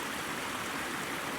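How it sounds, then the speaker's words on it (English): River water pouring down from a small waterfall at a riverbank in Glencoe, Scotland, a steady close rushing hiss with no pauses. "I've got the water coming down from the wee waterfall on the top left"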